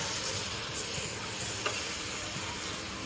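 Soaked rice being stirred into a pot of soya chunk pulao, giving a continuous soft sizzle and hiss with faint scraping throughout, close and low in level, no voices.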